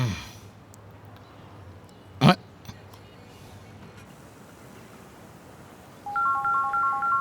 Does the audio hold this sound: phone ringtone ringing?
yes